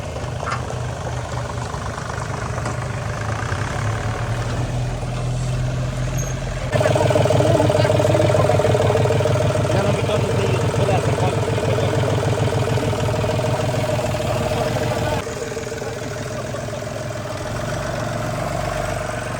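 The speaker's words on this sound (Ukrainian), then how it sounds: "Ваня, дивися, що вони з свого трактора роблять, Ваня." A tractor engine runs steadily at idle throughout, a low knocking mechanical drone that grows louder midway and then eases back, with no talk over it.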